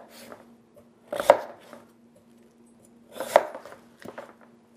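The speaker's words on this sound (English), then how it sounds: "If we were just to go ahead and slice this watermelon like this the whole way," A kitchen knife cuts through a whole watermelon twice, each a firm crunching chop through rind that lands with a dull knock on the cutting board, close and clear with quiet between strokes and no talk.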